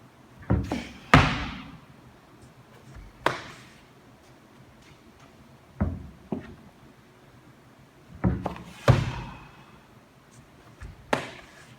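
Thuds of feet landing on a plyo box during seated box jumps, lower box height, several sharp separate impacts spread at irregular intervals with quiet between, moderately close.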